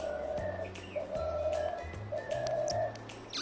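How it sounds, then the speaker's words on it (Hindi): Soft, low cooing notes repeat in a steady rhythm close by, layered over higher bird calls and whistling chirps in the background. "डब की आवाज़ सुनो।"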